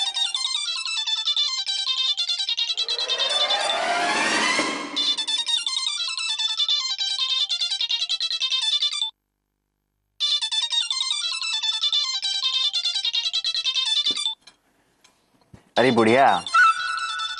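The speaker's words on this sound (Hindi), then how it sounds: "जब फोन उठाना नहीं है तो रखी काहे हो?" A mobile phone plays a loud, repeating electronic ringtone melody close by. It cuts out briefly and then resumes. A voice speaks over it, and a short rising sweep sounds near the end.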